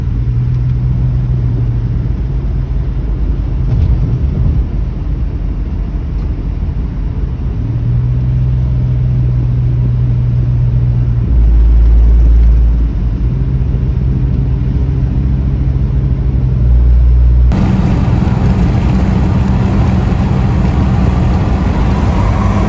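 A Nissan S13 rumbling through a newly fitted exhaust: a loud, deep, steady drone near the car, stepping up and down in pitch with light revs, and a brighter hiss entering near the end.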